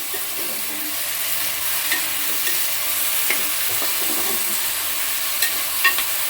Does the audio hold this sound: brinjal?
yes